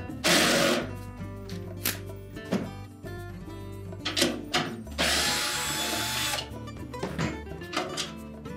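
Power tool spinning off the four 3/8 nuts that hold the exhaust vent blower motor and mounting bracket inside a Whirlpool range hood, heard as short whirring bursts with clicks and clanks between them, close by.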